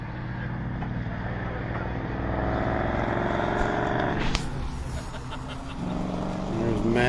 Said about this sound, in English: There's Matt and the BMW on their cool downs.